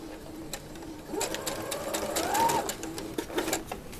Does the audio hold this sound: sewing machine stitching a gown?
yes